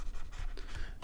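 Writing is rubbed off a board with a quick, close, scratchy swipe that lasts about a second.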